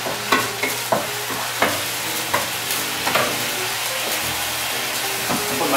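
Pad thai ingredients cooking down in a pan, giving a steady close sizzle and frying hiss with repeated scraping stir strokes and light clanks throughout, with no talking.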